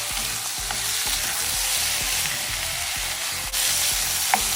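Beef sautéing with onion and garlic over medium-high heat, a steady close sizzle and crackle throughout with repeated stirring knocks and scrapes in the pan, and no talking.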